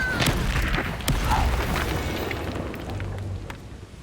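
An Incendio fire spell cast in the video game Hogwarts Legacy makes a loud burst with a booming, whooshing blast at the start. A second pulse follows about a second later, then it rumbles down into a fading roar.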